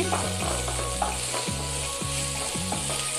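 Onion masala for a veg egg curry fries lightly in a pan, a steady close sizzle with occasional stirring scrapes, set against gliding tonal sounds.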